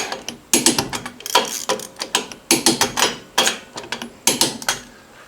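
An Alloyman 450 ft-lb electric 1/2-inch impact wrench drives a torque stick in loud, close bursts of rapid rattling hammering, about six short runs separated by brief pauses, with no talking.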